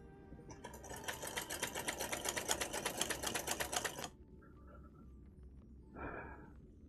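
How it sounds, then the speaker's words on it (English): Sewing machine stitching down stretched fabric for a cosplay, a fast rapid-fire mechanical chatter lasting about four seconds before stopping abruptly, followed by quiet and a brief soft rustle. "So now I'm stretching out the fabric as I sew this down."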